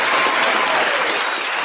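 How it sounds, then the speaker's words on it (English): Dense, loud applause from a live-stream sports talk show crowd, a steady wash of many hands clapping together without a break. "can we hit a little round of applause because we had a week off?"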